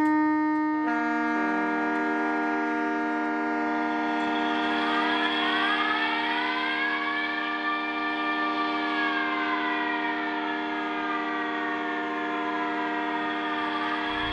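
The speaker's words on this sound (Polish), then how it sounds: "Tuż przed 4:45 i wycie syren." Loud sirens wail steadily on the Westerplatte peninsula just before 4:45, their tones slowly rising and falling in long sweeping arcs, sustained without pause.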